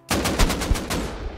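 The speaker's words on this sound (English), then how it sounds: "Yeah, AK." AK rifle gunfire in Rust Console Edition: a fast, loud burst of automatic shots, about ten rapid cracks in an even rhythm, lasting just over a second with no talking.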